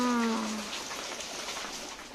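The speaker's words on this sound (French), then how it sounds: "Oh là là, quelle pluie torrentielle." Torrential rain pours down in a steady, dense hiss that holds evenly throughout, with a brief tonal voice-like sound fading away at the very start.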